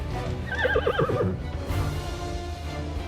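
A horse neighs and whinnies in the strategy game Imperium: Greek Wars, a loud, wavering cry lasting about a second with faint hoofbeats, followed by a steady low game ambience.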